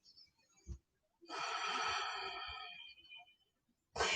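Deep, slow breathing during a yoga session: a short inhale, then a long, steady, airy exhale lasting about two seconds, close to the microphone, and the start of another breath at the end.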